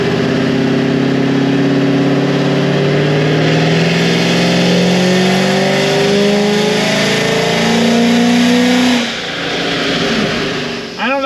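A naturally aspirated LS7 V8 car engine runs loud and close, its rough idle rising and falling under a few revs before briefly dipping, with a voice heard over it near the end.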